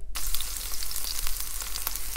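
A burger fries in coconut oil in a pan with a loud, dense, steady sizzle and crackle, heard close up with no talking.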